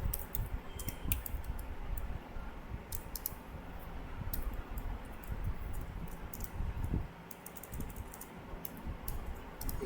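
Keys on a computer keyboard are tapped in quick, irregular clusters of faint clicks, heard over a steady low background hum.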